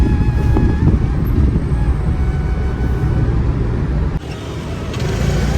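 A car pulls into a parking lot near the Jagannath Temple in Puri, with a loud, steady rumble of engine and road noise heard from inside the vehicle and a slight drop in level near the end.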